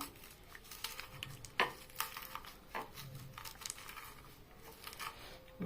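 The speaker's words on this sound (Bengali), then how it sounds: "আমি লঙ্কাটা আগে মেখে নিচ্ছি।" Chili being mashed and mixed by hand into a bharta, with wet squishing, soft patters and a few sharper crinkly clicks in an irregular rhythm, close by and fairly quiet.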